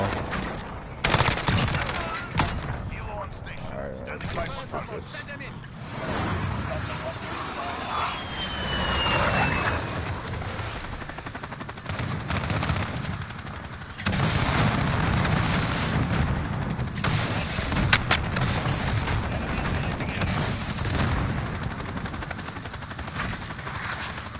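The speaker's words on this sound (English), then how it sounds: "Who's shooting me?" Heavy gunfire in Call of Duty: Modern Warfare multiplayer, with bursts of automatic rifle and machine-gun fire, scattered single shots and aircraft rumble, loud and continuous, with occasional voices.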